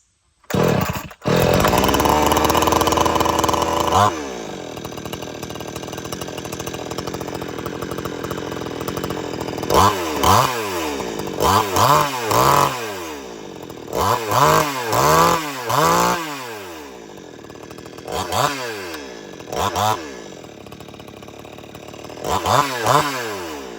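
A gas chainsaw roars at full throttle after a pull start, then settles into a steady idle broken by repeated short revving bursts, loud and close with no talk.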